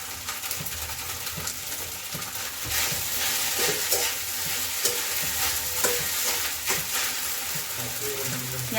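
Sabudana khichdi with peanuts sizzles steadily in a pan while being stirred, a dense continuous frying hiss with scraping spoon strokes, close and loud throughout.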